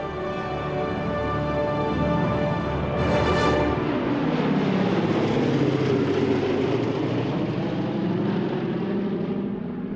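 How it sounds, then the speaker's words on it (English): A Boeing B-17 bomber's propeller engines drone loudly and steadily, a deep rumbling roar that swells as the aircraft passes close by, then settles into a sustained throb, with no talking. "B-17 is an incredibly famous airplane. It's got such beautiful lines and it just sounds so good"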